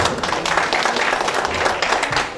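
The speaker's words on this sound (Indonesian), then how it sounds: "Tepuk tangan dong." A crowd at an installation and swearing-in ceremony claps hands briefly, a dense, fairly close patter of many hands that continues steadily without a break.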